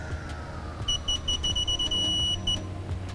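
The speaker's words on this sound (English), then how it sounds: "it's going to light up and give us a beep when we have hit the correct torque" An electronic torque wrench set to 25 newton metres beeps on reaching torque while fastening parts on a BMW 335i xDrive N55 engine, a string of short high beeps over a low garage hum.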